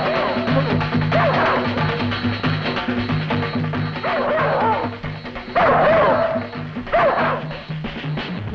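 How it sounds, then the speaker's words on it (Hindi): Dogs barking and yipping in an Indian Hindi film scene, several short barks repeating over busy music and voices, with people talking throughout. "अरे कुत्ते हमारे ही पीछे क्यों पड़े?"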